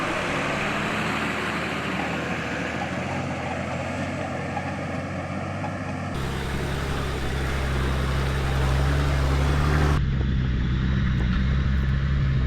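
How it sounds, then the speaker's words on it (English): A Nissan GQ Patrol 4WD idling steadily up a rocky track, its low engine rumble constant and fairly close, with an abrupt shift in tone partway through and a deeper, heavier drone toward the end. "Jordan's GQ Patrol makes it all look like child's play and just idles up the lot of it"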